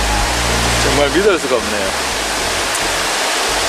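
A waterfall and a rushing stream in Luoyang, China, make a loud, steady broadband roar close by, with a person briefly talking over it.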